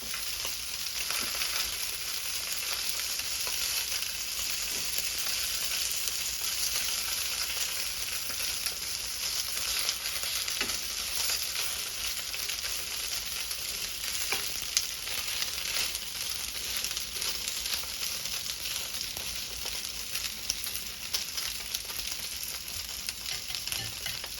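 Gyoza dumplings frying in a pot with a thin coat of oil, giving a steady, bright sizzle that holds evenly and fairly close for the whole stretch, with faint crackles and no talking.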